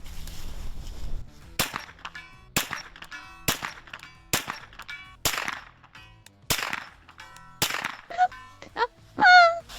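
An MP5 submachine gun fires 9mm Winchester 124 grain NATO rounds as sharp, separate single shots, about ten at a steady, slightly uneven pace, each with a brief ringing metallic tail and a louder final crack.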